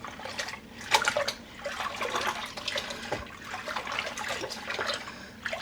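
Hand-dyed yarn skein rinsed under running water from a tap, a steady splashing flow that swells and shifts as the wool is moved through it, close and fairly quiet, with no talking.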